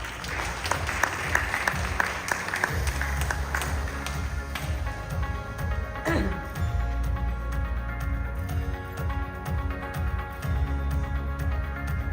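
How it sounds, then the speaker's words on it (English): An audience at a leadership conference and awards ceremony applauds, a dense, sustained round of clapping from a large crowd that swells and carries on steadily for several seconds. "With a big round of applause."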